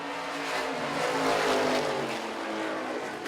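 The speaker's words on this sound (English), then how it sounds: "Nova and Northam wheel to wheel as they head for turn number 3." Street stock race cars roaring around the Lancaster Motorplex track: a dense, continuous engine drone from several cars, loud and steady with a slight swell midway through.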